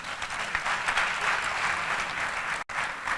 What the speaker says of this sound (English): I think it's an applause